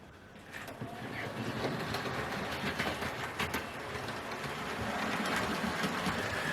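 A model Manor steam locomotive runs steadily along the track, giving a continuous close mechanical whir with light rhythmic clicking at an even, smooth level.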